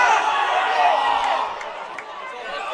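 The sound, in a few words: crowd cheering at football grand final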